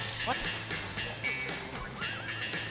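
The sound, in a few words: horse neighing in the video game The Escapists 2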